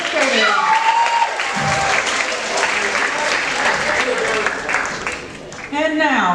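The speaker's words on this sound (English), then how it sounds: "Let's give another round of applause for our administrators." Audience applause at a high school academic awards ceremony, a sustained round of clapping from a crowd, with a voice speaking over it near the start and the end.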